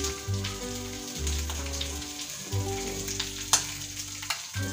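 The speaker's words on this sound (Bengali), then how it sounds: "এখানে আছে ঝালের জন্য লঙ্কা, জিরে, ধনে গুঁড়ো একসঙ্গে দিয়ে দিচ্ছি।" Chili, cumin and coriander powder go into hot oil in a pan of Bengali catla fish curry, crackling in a steady close sizzle with light stirring scrapes, no voices.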